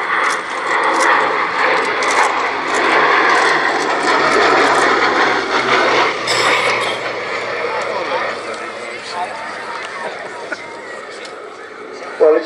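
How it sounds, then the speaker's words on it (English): A Westland Lysander propeller aircraft drones overhead at an airshow, its engine roar swelling and then fading as it passes, with someone speaking over it. "In from the right, the Lysander."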